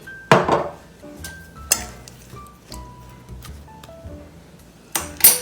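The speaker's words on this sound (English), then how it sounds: "just stir it all up. Make sure everything's coated evenly" A utensil stirs vegetables with olive oil and sea salt in a bowl, giving scattered clinks and taps against the bowl with quiet gaps and a few sharper knocks.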